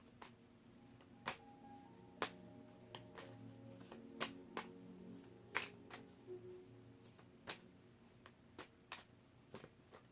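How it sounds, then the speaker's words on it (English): Tarot cards being shuffled and pulled, soft close papery snaps and flicks recurring irregularly over about ten seconds in a quiet room. "Let me pull a couple of these cards."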